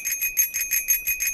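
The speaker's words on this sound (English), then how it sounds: "can you get the bicycle bell? I don't think I can grab it. I can only pling-plong it." A bicycle bell in Untitled Goose Game rings in a quick, even series of about eight bright metallic dings, loud and close with nothing else heard.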